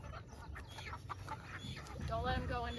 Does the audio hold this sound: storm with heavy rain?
no